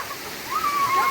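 Heavy rain falling in Siddhpur, Gujarat, a steady, full hiss of water splashing that swells slightly near the end, with a faint thin tone riding over it.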